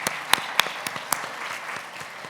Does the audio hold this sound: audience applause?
yes